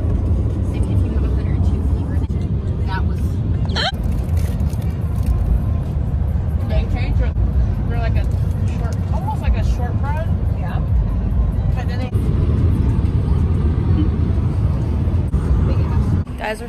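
A car cruises along a desert road with a steady low engine and road rumble throughout, while people talk inside the cabin over it.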